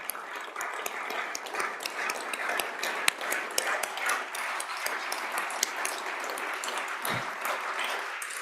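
Applause fills a legislative house chamber, a sustained rattle of many hands clapping at even, moderate loudness, with scattered sharper claps throughout.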